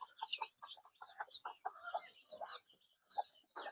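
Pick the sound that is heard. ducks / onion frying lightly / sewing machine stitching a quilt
ducks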